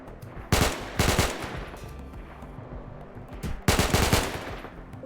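Gunfire from the video game RimWorld: two loud bursts of rapid machine-gun fire about three seconds apart, with quieter shots and rumble between them.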